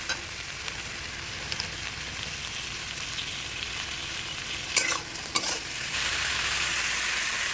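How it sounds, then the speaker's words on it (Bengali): Chopped tomato sizzles in a hot pan for chicken curry as it is stirred, a steady close frying hiss broken by a few sharp scrapes and taps of the spoon, with no talking. "এবার টমেটো কুচিটা দেওয়ার পর এটা একটু ভালো করে নেড়ে নেবো যতক্ষণ টমেটোটা একটু গলে না আসে"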